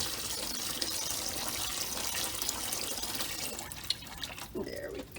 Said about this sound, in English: Might need to refill the water a little bit.